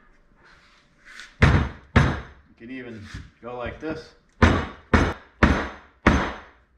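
A rubber mallet strikes a special tool pressing a urethane suspension bushing into place, giving a series of sharp, close thuds, a couple early and then four in quick succession, while someone talks between blows.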